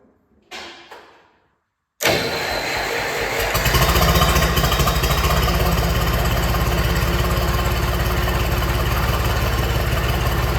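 After a few faint clanks, a John Deere 300 backhoe with a newly replaced hydraulic pump cranks and fires, then settles into a loud, steady, close diesel idle with a constant throb.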